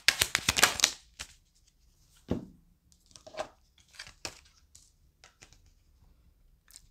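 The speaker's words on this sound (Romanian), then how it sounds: "Mai vreau o carte." A quick riffle of tarot cards being shuffled, followed by scattered soft taps and slides of cards being laid down in a quiet room.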